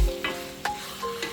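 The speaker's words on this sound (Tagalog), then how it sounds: "Igigisa natin siya hanggang sa matuyo lang siya." Chicken sautéing in a pan for binagoongang manok, cooked until dry: a soft steady sizzle with a few brief stirring scrapes, close and fairly quiet, no talking.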